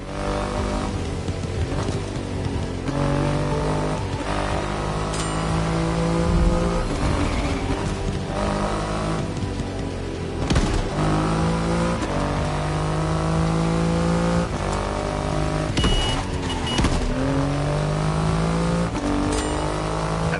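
A Triumph Rocket 3 motorcycle with a 2.5-liter engine roars in The Crew Motorfest, its engine note rising and falling through repeated revs and gear changes, loud and close under background music.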